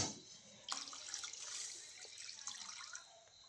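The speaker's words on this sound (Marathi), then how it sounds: "अजून पाणी टाकते" Water is poured into a pot of cooking vegetables on a wood-fired clay stove, a soft continuous trickle and splash that starts abruptly and runs quietly to the end.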